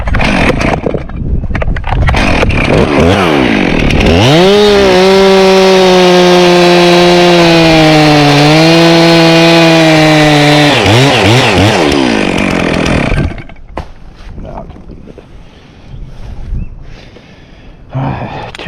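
A chainsaw cutting wood about 50 feet up a tree, loud and close, revving up to a steady high whine for several seconds before dropping off, followed by quieter rustling and knocks.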